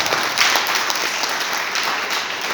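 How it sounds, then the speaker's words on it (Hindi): An indoor audience at a sales seminar bursts into dense, sustained applause. Many hands clap at once in a loud, even wash that carries through the whole stretch, with no distinct voices above it. "एक जोरदार ताली अपने लिए बजा सकते हैं आप?"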